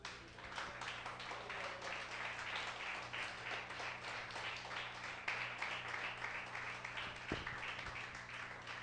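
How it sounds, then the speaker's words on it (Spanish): A church congregation claps in praise to God during a sermon, the applause faint and distant, a patter of many hands over a steady electrical hum. "Denle un aplauso a Dios"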